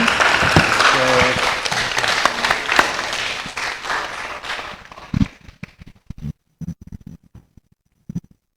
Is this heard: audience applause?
yes